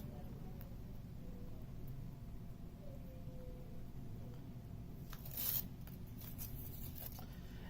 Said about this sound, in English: you remove the paper backing